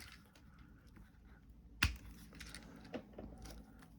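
Small screws for a 1:8 scale Back to the Future DeLorean model build are sorted out of packets, with soft close clicks and rustles and one sharp tap partway through, quiet and without talk.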